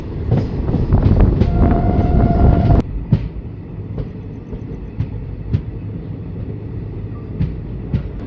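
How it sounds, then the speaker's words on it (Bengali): The Kanchankanya Express on the Alipurduar–Sealdah line rumbles loudly through Rajabhatkhawa station without stopping, a horn sounding briefly before the roar drops to a steadier clatter with regular wheel clicks. "ট্রেন এখন রাজা ভাত খাওয়া স্টেশন স্কিপ করছে"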